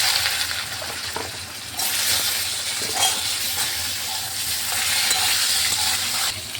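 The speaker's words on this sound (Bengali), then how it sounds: "লবণ দিয়ে আলুটাকে আমি একটু কিছুক্ষণ ভেজে নিচ্ছি" Potatoes frying in oil with fenugreek, nigella seeds and green chilli, a continuous close sizzle with occasional soft stirring scrapes.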